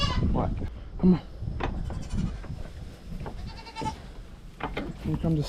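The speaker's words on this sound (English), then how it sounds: "Here come the 7 whiniest goats." A small herd of goats bleats repeatedly, several whiny calls overlapping at close range, while people talk over them.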